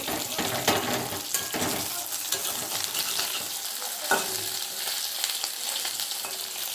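Fish frying in a home kitchen pan, a steady loud sizzle with crackling and scraping stirs throughout, no voices.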